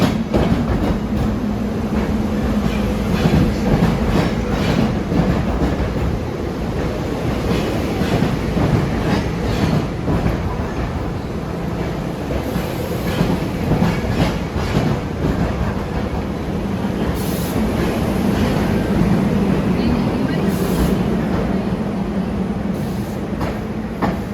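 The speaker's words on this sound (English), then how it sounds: "Limited train to arrive on track 5." A train rumbles steadily past a Philadelphia-area station platform at close range, a constant loud roar with rhythmic clatter of wheels and occasional high squeals.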